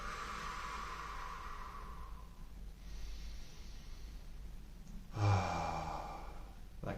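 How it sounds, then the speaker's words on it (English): Slow, deep breaths drawn in through the nose and let out long through the mouth, quiet and close, with a sighing exhale near the end. "long, slow out breaths out the mouth, in through the nose."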